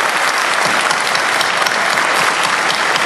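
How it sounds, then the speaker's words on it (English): Dense, loud audience applause for primary candidates for Ohio's 16th Congressional District at a candidates' forum. It holds steady throughout as a continuous wash of clapping. "Let's give them a round of applause and thank you very much."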